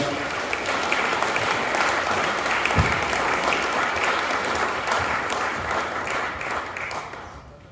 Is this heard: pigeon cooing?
no